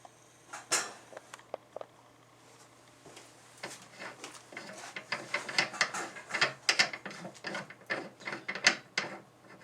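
A Lee decapping die being screwed into a reloading press until it meets the shell holder, with a series of quiet metallic clicks and ratcheting scrapes that grow busier and louder toward the end.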